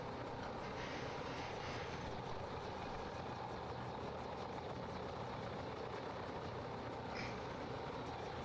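Helicopters fly in the wartime strategy game Graviteam Tactics, a steady faint engine drone that holds evenly with no breaks for the whole stretch.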